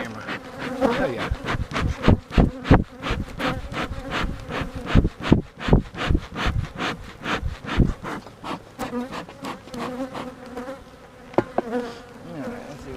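Bees swarm right against a camera at an opened hive, their buzz layered with rapid, irregular knocks and scrapes as insects crawl and bump over the housing, loud and close throughout.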